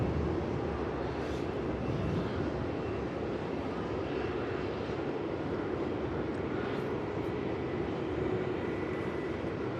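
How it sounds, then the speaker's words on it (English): A Rex Airlines aircraft lands at Melbourne Airport, heard as a steady, broad engine roar that holds at an even loudness throughout, with no talk over it. "Nice touchdown by Rex."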